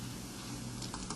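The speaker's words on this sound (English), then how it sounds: "Let me type it for you." Typing on a computer keyboard produces soft, quick key clicks over a steady background hiss, with a small cluster of taps near the end.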